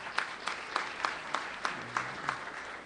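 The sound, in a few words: audience applause at political event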